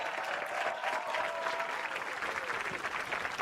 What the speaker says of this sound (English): So would you please give a huge round of applause to Ireland, to all of our twirlers, and their incredible coach and advisor